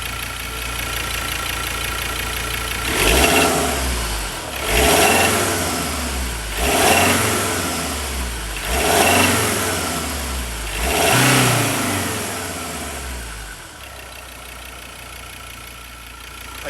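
A diesel car engine runs during an injector cleaning with Liqui-Moly Diesel Purge, giving a steady close idle broken by five rhythmic revs that rise and fall before it settles back to idle.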